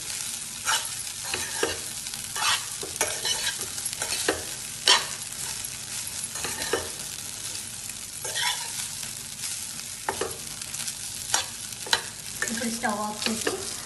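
Egg dum biryani mixture being stirred in a pot, with repeated scraping and clinking spoon strokes over a steady soft sizzle, close and moderately loud, no voices.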